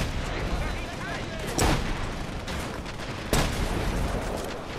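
Sniper rifle shots ring out in The Saboteur, two sharp loud cracks about two seconds apart over a steady bed of game ambience and background battle noise.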